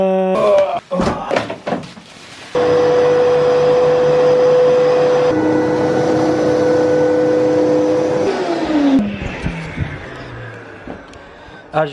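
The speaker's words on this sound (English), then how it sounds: "we actually got a Rug Doctor machine. And here's their carpet wash" A Rug Doctor carpet washing machine runs with a steady, loud motor whine and suction roar for several seconds, stopping and restarting between passes over the carpet.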